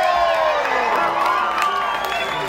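Dense, sustained cheering and shouting from a live concert crowd at Slim's for a band member, with whoops rising over a constant roar.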